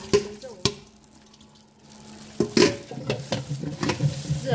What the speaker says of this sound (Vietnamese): Rửa lại 2-3 lần với nước để cho hết cái mùi vôi đi ạ.